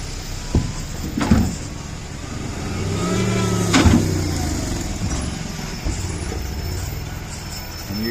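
A vehicle rolls onto an old hand-crank river ferry, its engine swelling to a rumbling rev midway, with thuds and clanks of metal deck ramps before and after.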